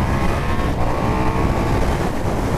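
A KTM Super Duke R motorcycle engine pulls hard at part throttle, a loud, steady, gritty roar with a constant drone and no pauses, heard close from the rider's position.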